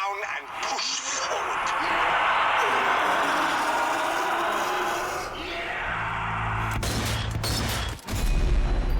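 Gunfire in the zombie shooter Zombie Army 4: Dead War rattles in dense, sustained bursts, layered under game noise and a voice talking, then cuts off near the end.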